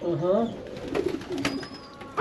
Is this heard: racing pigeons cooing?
yes